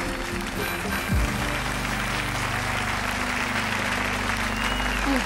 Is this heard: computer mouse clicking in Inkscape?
no